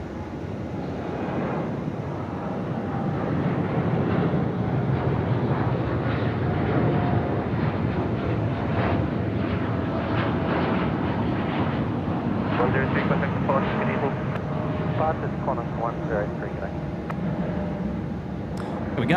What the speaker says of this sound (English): Qantas 103, service departed there to Honolulu